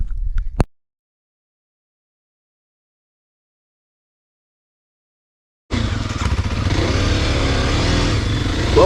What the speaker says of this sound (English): he's riding the KLX 300 starting off